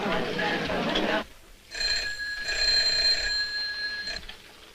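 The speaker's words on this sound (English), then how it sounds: "Phone!" An old telephone bell rings in a 1947 British noir film, two long trilling bursts after a short stretch of voices, loud and close.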